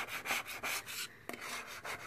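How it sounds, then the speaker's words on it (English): A metal scraper with a new blade scraping across a vintage enamel sign, a faint, close, rhythmic rasping in repeated back-and-forth strokes with no talk. "I've used a scraper"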